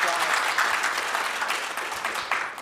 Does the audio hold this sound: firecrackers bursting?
no